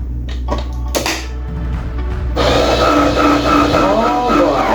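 A juicer pressing honeydew melon and watermelon starts up partway through with a steady, loud whirring drone after some bumps and clatter, running continuously to the end.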